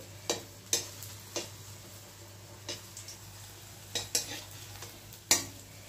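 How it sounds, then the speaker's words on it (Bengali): Papad frying in hot oil, a faint low sizzle under a series of sharp, separate taps and clinks of a utensil against the pan, spaced irregularly and fairly quiet overall. "পাঁপড়গুলিকে ঠিক এইভাবে ভেজে নিতে হবে"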